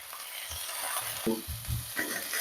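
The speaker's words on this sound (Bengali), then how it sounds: "আলুগুলো আমি হালকা এরকম নেড়ে ভেজে নিচ্ছি।" Large potato pieces coated in salt and turmeric, gently stirred and fried in a kadai for mutton curry, giving a soft sizzle with a few low scrapes and knocks of the spatula.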